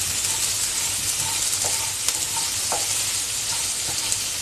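Onions sauté in oil in a pan with a steady, close sizzle and a few light scrapes of a spoon against the metal, heard alone.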